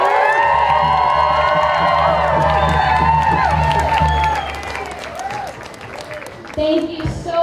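A large outdoor crowd at a climate strike rally bursts into loud, sustained applause mixed with cheers and whoops, easing off toward the end as a voice begins to speak.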